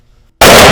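A pump-action firearm fires one loud, abrupt shot at a target on a shooting range, the blast bursting out after a short near-silence and ringing on to the end.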